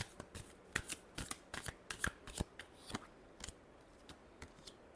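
Tarot cards being shuffled by hand, a run of quick crisp riffling snaps and flutters in uneven bursts, close and fairly quiet, with no voices.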